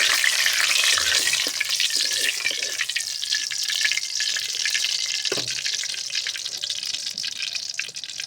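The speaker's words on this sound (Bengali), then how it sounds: "কড়াইতে শুকনো মরিচ দিয়ে দিলাম," Dried chillies sizzle and crackle in hot oil in a wok, a bright continuous hiss with a few scraping stirs. Nothing else is heard over the frying.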